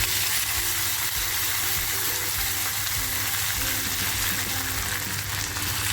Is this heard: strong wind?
no